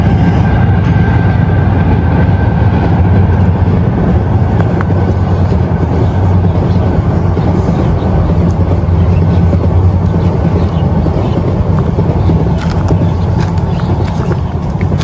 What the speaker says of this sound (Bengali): ট্রেনটা গেল তাই আমি একটু অফ ছিলাম।